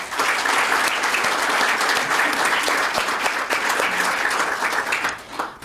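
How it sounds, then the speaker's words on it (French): Audience applause at the launch of a final report, a dense steady wash of clapping lasting throughout, moderately loud, tapering slightly at the close. "toute l'équipe mérite une belle main d'applaudissements"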